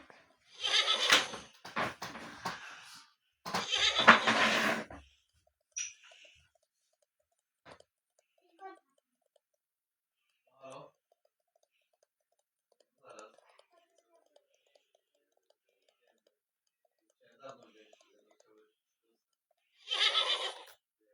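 Two loud, breathy horse neighs sound close together at the start, then a third one comes near the end, separated by long near-silent stretches with faint small clicks and quiet voices.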